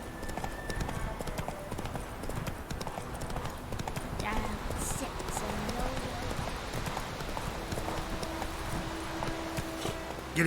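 Horse hooves clip-clop steadily at a walking pace across the ground in The Witcher 3: Wild Hunt, a constant near rhythm running the whole length under game ambience, with a voice talking over it briefly.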